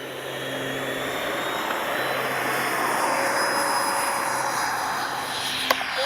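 A Freewing F-22 90mm RC jet on its takeoff run with flaps set, a steady rushing whine of ducted fans holding at a constant level, with a faint tonal shift near the end.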